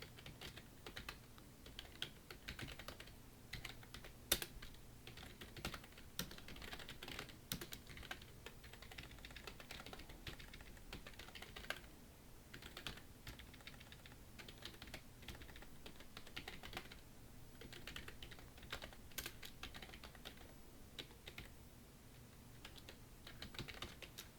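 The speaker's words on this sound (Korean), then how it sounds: "이렇게 글자를 입력해 줍니다" Steady typing on a computer keyboard entering text into a PowerPoint exam document, with quick, irregular key clicks and occasional heavier Enter-key strikes continuing throughout, close and moderately faint, with no talking.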